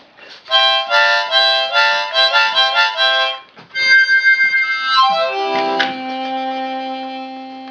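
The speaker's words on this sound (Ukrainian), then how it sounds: "А головна гармошка зроблена так, що ти можеш дути і туди і назад." Harmonica notes ring out: a run of bright repeated chords, a short pause, then a sliding descending phrase ending on a held low note, close and clear.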